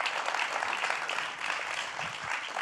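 An audience applauds guests at the final of a world eloquence contest in Paris, a dense, steady round of clapping lasting the whole moment.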